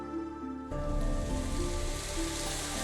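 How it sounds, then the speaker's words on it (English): Heavy rain drumming violently on a manor in the visual novel Psychedelica of the Black Butterfly, a dense steady roar that swells in abruptly after a quieter opening and stays loud with no voices. "The sound of the rain drumming violently on the manor fills my ears."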